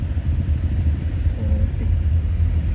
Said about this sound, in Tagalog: Matinding traffic ngayon.